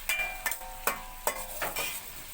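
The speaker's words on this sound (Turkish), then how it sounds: "Soğanımız da kavrulmaya başladı yavaş yavaş" Onions being sautéed in a pan, a soft steady sizzle broken by four or five evenly spaced scraping stirs of a utensil against the pan, close and with no talking.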